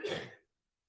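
A single short cough, faint and quick, followed by silence.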